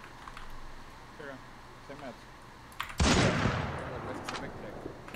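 Shotgun blasts from a 12-gauge in the Free Fire battle royale game, a sudden loud burst of gunfire erupting midway after quieter game ambience with a few faint earlier shots, trailing into sustained noisy rumble.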